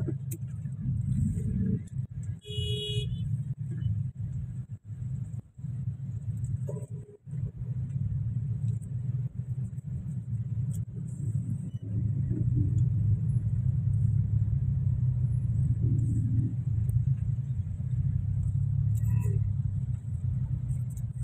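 Cars driving through flood water on a street in Palembang after heavy rain, a continuous low rumble of engines and tyres pushing through water, loud and close, with a person talking over it throughout.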